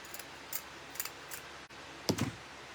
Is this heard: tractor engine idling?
no